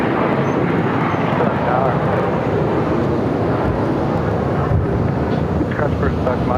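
An American Airlines airliner taking off from runway 7 left at Phoenix airport: a loud, continuous jet engine roar rumbling steadily throughout, with no pause or change in level.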